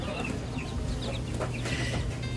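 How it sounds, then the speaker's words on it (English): Several chickens cluck and chatter continuously nearby, with a low background hum underneath. "I think the chickens are definitely enjoying their new home."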